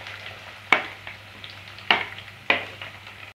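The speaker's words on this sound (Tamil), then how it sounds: "இப்போ நம்ம வெங்காயம் சேர்த்துக்க போகிறோம்." Chopped onions dropped into hot oil for a goat head curry, giving three sharp sizzling bursts that each fade into a soft, steady crackle, close and alone.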